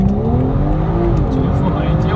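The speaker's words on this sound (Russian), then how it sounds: "газ в пол" A BMW G30 540i with the B58 engine, flashed to Stage 2, accelerating hard at full throttle from a standstill, a loud continuous engine roar climbing steadily in pitch from inside the cabin.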